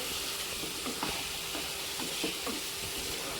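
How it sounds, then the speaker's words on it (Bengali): Salted chicken pieces fry in a pan, a constant dense hiss of sizzling oil with light, irregular scraping and tapping as they are stirred. "স্বাদ অনুযায়ী নুন দিয়ে দিলাম কিছুক্ষণ ধরে নাড়াচাড়া করে ভেজে নিতে হবে কালারটা যাতে চিকেনের চেঞ্জ হয়ে যায়"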